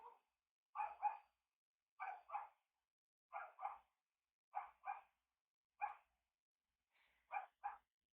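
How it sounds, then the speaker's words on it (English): A neighbour's dog barks in paired yaps, repeating in a steady rhythm of double barks with short pauses, moderately near and alone against a quiet background. "The asshole neighbor has an asshole dog. Give it a moment. It barks at wind."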